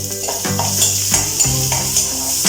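Chillies, onion and ginger-garlic paste fry in a pan with a steady loud sizzle, broken by repeated scraping strokes of a spoon stirring the mixture.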